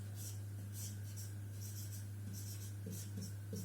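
Bengali letters written by hand, a soft close scratching of pen on paper in short strokes and bursts over a steady low hum.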